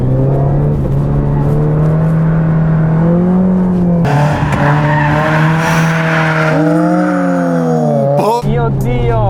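A Toyota AE86, the car linked to Tsuchiya, drifts with tire squeal over a loud, continuous engine howl whose pitch repeatedly climbs and dips as the throttle works, ending in a sharp rising whine.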